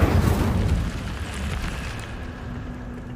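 An Incendio fire spell cast in the video game Hogwarts Legacy bursts out as a loud, rumbling whoosh of flame, then fades into a lower, sustained crackling roar.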